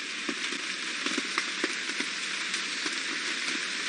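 Steady rain falling on a surface, a dense hiss with scattered louder drops pattering throughout, no voices.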